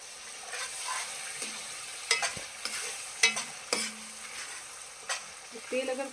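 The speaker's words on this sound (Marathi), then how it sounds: "अभी हम टमाटर का पेस्ट अच्छे से मसाले में पकाएंगे" Tomato paste cooking in spiced oil for chicken rassa, stirred with a spoon: a soft continuous sizzle broken by several sharp scrapes and clinks of the spoon against the pan, close and fairly quiet.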